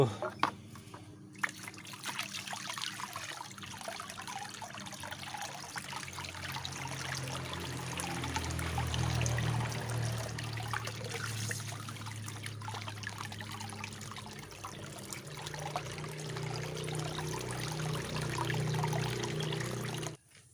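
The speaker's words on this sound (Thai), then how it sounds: "ไส้กรองน่าจะตันนะครับเพื่อน เราจะเอาน้ำล้างดู" Water trickles steadily through a clogged fuel filter being rinsed during a repair on a vehicle that won't start and stalls, a soft continuous flow under someone talking.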